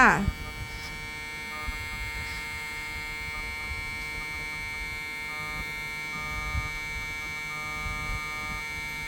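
A Union The Boss electric hair clipper switches on and runs near the microphone with a steady, strong, high buzzing hum that holds evenly throughout.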